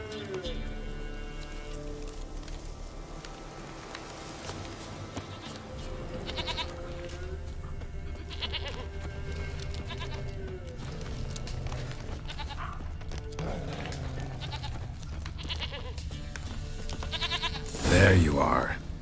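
A goat bleats in the video game The Witcher 3: Wild Hunt, with repeated bleats over a steady game soundscape and background music, plus a louder burst near the end.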